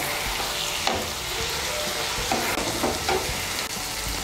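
A paste of mustard seed, poppy seed and green chillies fries in a pan over high heat, making a dense, steady sizzle with repeated scraping taps from stirring.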